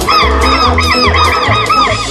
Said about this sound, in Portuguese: Os quero-queros dão o alerta quando alguém se aproxima.